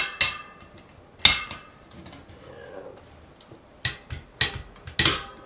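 A torque wrench tightening a bicycle cassette lockring to 40 Nm on Stan's ZTR Gold race wheels with an XTR cassette gives sharp metallic clicks, a few isolated ones and then a quick cluster near the end, close and loud over a quiet background.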